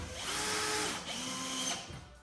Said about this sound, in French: Je prends ma visseuse. Et là, je peux visser